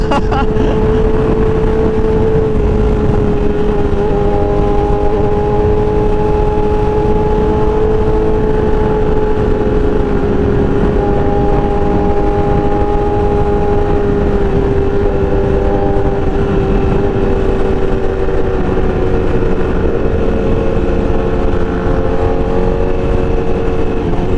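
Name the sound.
loud sport motorcycle exhaust revving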